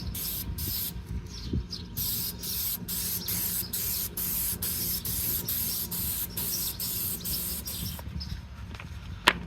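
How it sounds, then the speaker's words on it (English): An aerosol spray can sprays paint remover onto an M1C steel helmet, a run of short hissing bursts with brief pauses between them, close and fairly quiet, ending with a small knock. "it says to just shake it and spray it, and allow time for it to work."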